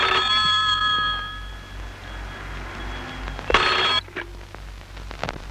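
A telephone rings with a bright electronic warble in a 1994 Hindi comedy film scene, a sustained tone followed by a short second burst over low background hum.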